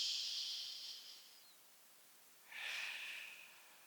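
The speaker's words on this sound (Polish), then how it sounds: "Nosem, wydech ustami." A slow, deep breath drawn in through the nose, then let out through the mouth, during a beginner yoga session. Two soft airy swells sit apart with a quiet pause between, close and faint, with no talking.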